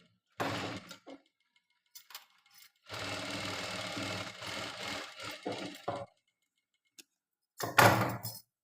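A sewing machine stitching the front part of a blouse, with a short burst, a longer three-second run and a final quick burst, mixed with small clicks and handling noises in between, close and fairly quiet.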